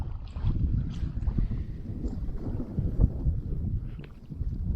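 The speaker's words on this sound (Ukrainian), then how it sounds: "піднявся ще вітер" Steady low wind rumble buffets the microphone throughout while float fishing for roach in spring, with faint water and boat noises underneath and no talking.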